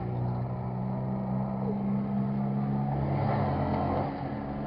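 A car with a broken exhaust drones steadily with a loud, rough low rumble, heard continuously from inside or alongside the moving vehicle with little change in level.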